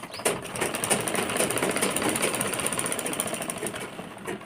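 A sewing machine stitches pleats on a netted blouse in one continuous, close run with a rapid mechanical chatter. It is steady and fairly loud, and no one talks over it.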